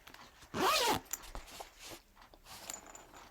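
A single quick zipper pull rasps loudly for about half a second, followed by soft handling and rustling sounds.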